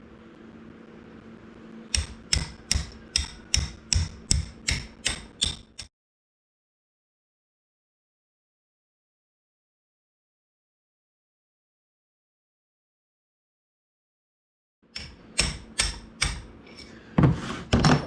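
An axle roll pin being worked back and forth makes a rapid series of sharp metallic clicks. One burst of clicks is followed by a long silence, then another burst of clicks, all close up.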